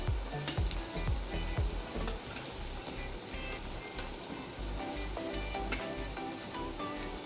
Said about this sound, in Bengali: এটা পুরো কড়কড়া করে ভাজবে, তাহলে ভালো লাগবে